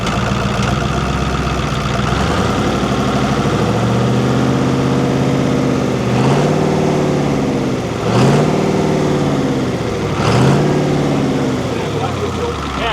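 A Cummins V8 diesel in a Ford D1000 truck running rough and starved of fuel, a loud steady idle with the engine sagging and recovering in several slow surges about two seconds apart.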